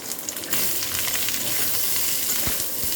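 Green chili, garlic, chopped onion and tomato frying together in a pan, a loud steady sizzle with occasional stirring scrapes, no talking.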